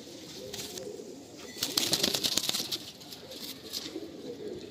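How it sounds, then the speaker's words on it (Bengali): A male pigeon from a lot for sale in Kolkata is let go and beats its wings, a burst of rapid flapping claps in the middle under soft cooing and background noise. "আসুন ছেড়ে দিই পায়রাটা।"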